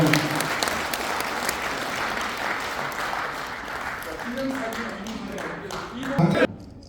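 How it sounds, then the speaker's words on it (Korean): A large audience gives loud, continuous applause for Professor Kim Young-gil at a patriotic humanities lecture series held by a regional citizens' association, with a voice faintly heard under the clapping before it stops abruptly. "우리 김영길 교수한테 큰 박수 부탁드리겠습니다"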